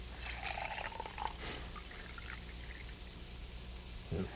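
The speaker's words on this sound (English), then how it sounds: "Okay, so I'm just going to pour this right in." Water poured from a measuring cup into a pot of condensed soup, a steady trickling, splashing pour heard close up with no talk, tapering off near the end.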